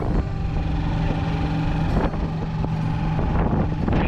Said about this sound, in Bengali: ট্রাইসাইকেলে চেপেছি আমরা সবাই মিলে